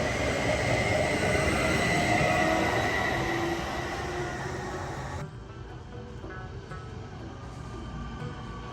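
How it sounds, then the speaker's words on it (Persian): A train pulls into a station in Bielefeld, Germany, with a loud, broad rush and rumble of wheels on rails that drops abruptly to a quieter, steady roll, no voices heard. "دوستان اینم قطارهای ما"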